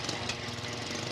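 Tricycle motorcycle engine revved on the road, a rough, throbbing, knocking drone held steady at close range for about a second with no voices.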